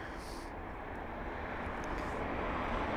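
At London Heathrow, an aircraft on the runway produces a steady, broad jet roar heard from a distance, holding even with no distinct events.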